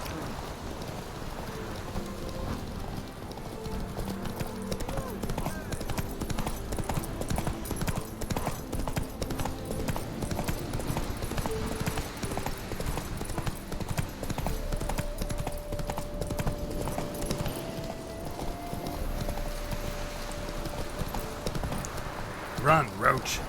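Roach, the horse in The Witcher 3, gallops with a steady run of clip-clop hoofbeats under rain pattering on the ground, while voices talk over the game sound.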